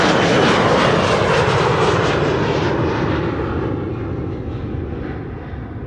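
An Embraer 175 jet at Amsterdam Schiphol roars loud and close with a broad, steady engine rush that slowly eases and thins over six seconds, with no voices.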